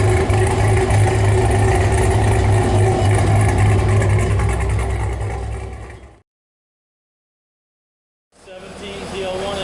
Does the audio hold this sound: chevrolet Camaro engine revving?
yes